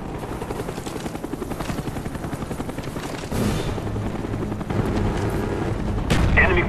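Cobra attack helicopter in the video game Call of Duty Black Ops, a steady rotor drone with bursts of gunfire and explosions layered over it, growing louder toward the end.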